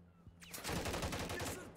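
Rapid automatic gunfire in Call of Duty: Modern Warfare 3, a short dense burst of shots that starts abruptly and stays loud and close for over a second.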